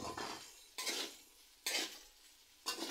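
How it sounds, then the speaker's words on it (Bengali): Vegetables for an egg vegetable pasta are stir-fried in a kadai, producing soft sizzling broken by three rhythmic scraping stirs of a spatula against the pan. The sound is faint and close, and no one speaks. "এবার আমি সবজিগুলোকে আরও ভালো করে কিছুক্ষণ ভেজে নেব"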